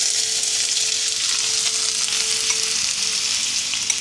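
Onions frying in hot mustard oil in a wok, a steady close, loud sizzle with crackling spatter throughout, a faint tone running underneath.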